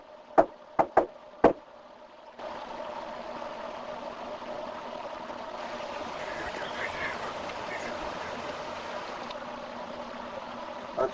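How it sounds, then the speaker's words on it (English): Four sharp knocks on a door or wall in a reputedly haunted house during a paranormal investigation, loud and close in an uneven pattern, followed by silence and then a steady low hum. "Answer this knock."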